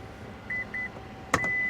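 Two short electronic beeps from the power tailgate of a 2025 Acura MDX sound, followed by a click and a longer sustained tone, near and fairly quiet.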